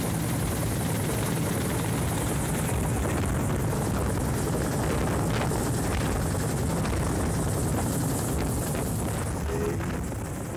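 A rescue helicopter hovers close overhead, its rotor producing a loud, continuous, rumbling roar with wind buffeting that stays steady for the whole stretch, no voices.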